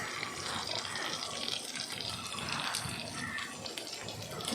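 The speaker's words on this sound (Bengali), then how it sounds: "সামান্য একটু জল দেবো যাতে মশলাটা পুড়ে না যায়" Water splashes into a pan of frying ginger-garlic paste with turmeric and chili powder, giving a steady close hiss and sizzle that carries through the whole stretch.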